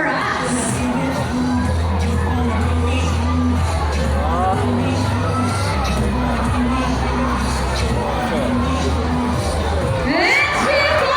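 Children and a crowd cheer and shout encouragement for Daza, a performing sea lion, at a bird and sea lion show at Manila Ocean Park, a steady loud babble of young voices with whoops lasting throughout.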